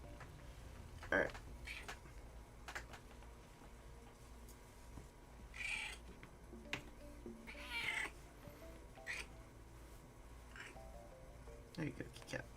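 A real cat in a room meows and complains in several short, scattered cries while a person talks quietly at times, with faint rustling around the calls.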